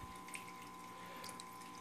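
Water trickles steadily in a plug-in, filtered chameleon drinking fountain, a faint continuous splashing over a low pump hum, with no talking.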